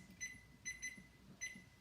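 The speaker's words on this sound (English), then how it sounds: "I'm going to put the timer on to remind me." A kitchen timer set while making corn dogs gives faint, high electronic beeps in short double pulses, repeating quickly and evenly over a quiet room.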